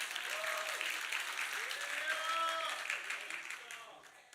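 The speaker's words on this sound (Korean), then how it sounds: "박수를 보내주세요." A church congregation at an all-generations Korean Methodist worship service claps and applauds steadily for a few seconds, while a voice continues over the applause, which fades toward the end.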